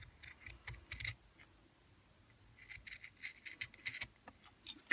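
Scissors snip through fabric for a Barbie doll jumper in a quiet room, producing a series of soft, close, irregular cutting clicks in short bursts.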